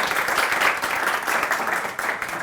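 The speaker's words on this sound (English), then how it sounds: "Also applause, please." A room of people at a tech meetup applauds, dense clapping that swells and dips slightly over a couple of seconds, fairly close and loud.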